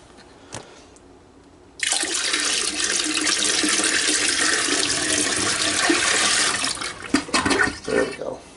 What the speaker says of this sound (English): Just enough water in there to get it run through, and away it goes.